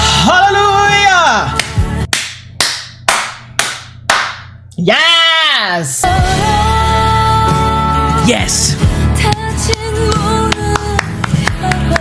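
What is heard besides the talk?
viewers clapping while reacting to The Glory finale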